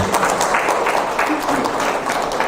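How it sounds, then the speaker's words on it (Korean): A conference audience claps steadily, a dense wash of applause from a crowd filling the room. "박수 한번 부탁드리겠습니다"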